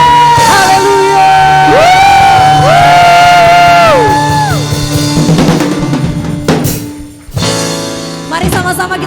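A church congregation cheers hallelujah in a loud, sustained swell of massed shouting and whoops, with sung or chanted tones held over the crowd before it fades and rises again.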